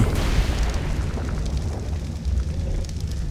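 Deep, rumbling booms from the video game ARK roll continuously, a dense low roar of explosions with crackling debris, loud and close with no clear gaps.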